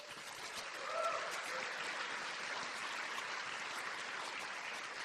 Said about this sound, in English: Dr. Heidi Berry also deserves applause